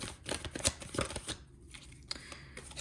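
Tarot cards riffled and shuffled by hand in quick papery bursts, close and fairly loud, settling into softer slides and taps toward the end, with no talking.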